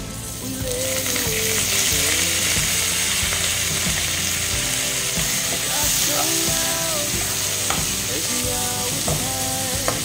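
Chicken wings hit a pan already holding onion, garlic and ginger for tinola, giving a steady broadband sizzle throughout with a spoon scraping and clinking now and then. Faint background music runs underneath; no one speaks.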